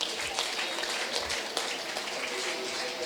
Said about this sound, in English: I think a big round of applause there, please.